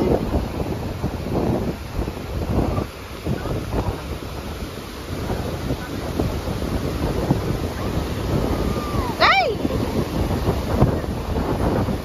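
Strong wind buffets the microphone on a beach, with surf washing in beneath the gusts. The roar is loud and continuous, and a brief whistle-like chirp cuts through once. No one speaks.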